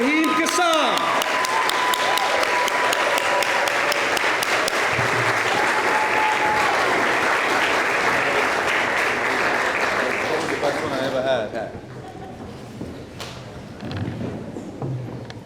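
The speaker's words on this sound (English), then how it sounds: "I would like all of you to stand up, and give a round of applause to my dear friend, London's finest, Raheem Kassam" A large standing audience at a summer speaker event gives a loud, sustained round of applause with a few whistles, then the clapping thins out and fades near the end as voices come through.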